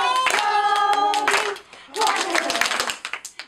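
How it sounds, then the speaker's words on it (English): A group claps hands together, sharp slaps sounding under a voice and backing music, ending in a handful of separate, slower claps. "Let's clap. Clap your hands slowly."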